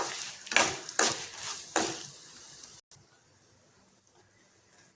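A spoon clatters and scrapes in a pan as tamarind is stirred while roasting over a low flame for a spicy garlic chutney, with four quick metallic scrapes close by, then near silence.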